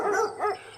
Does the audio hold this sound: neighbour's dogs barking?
yes